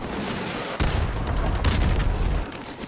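A tank blown up in a military shooter game set against Zakhaev's army, heard as a loud sustained boom and rumbling blast with crackling debris, alone with no talk.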